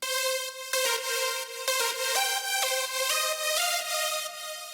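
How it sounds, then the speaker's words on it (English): First layer of a synth lead from a remake, built in Ableton Live 12: a bright, buzzy, harmonic-rich melody of short stepped notes, played alone and fairly steady in level. "The first layer of the lead sounds like this"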